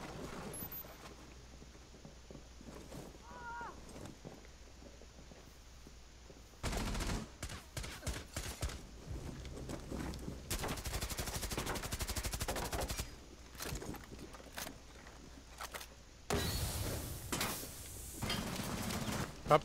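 Gunfire in the tactical shooter Rainbow Six Siege during a skyscraper hostage match, with sustained bursts of automatic fire in several loud stretches separated by quieter pauses.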